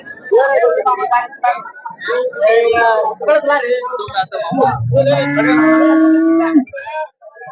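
A cow lets out a long, loud moo close by at a busy cattle market in Honnali, Davanagere, with people talking over and around it.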